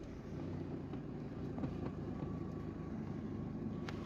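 A car engine, running on LPG in a repair shop, idles steadily, a low continuous rumble with an even, unchanging level and no revving.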